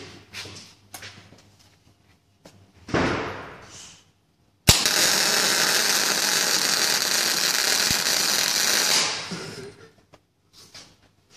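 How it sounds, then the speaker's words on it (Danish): MIG-style gas welding shielded by an argon and CO2 mix, a loud steady crackling hiss lasting about four seconds after a sharp start, with scattered clicks and handling noises before and after. "Sådan ser det ud, når man svejser med gas"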